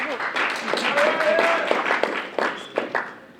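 Scattered clapping from a debate event audience, a burst of uneven hand claps and taps mixed with voices and murmuring in the room, fairly close and loud.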